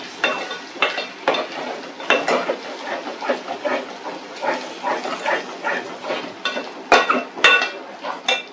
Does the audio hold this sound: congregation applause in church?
no